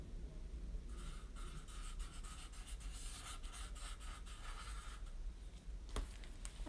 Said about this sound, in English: So take your time with drawing around your shadows, seeing what they create.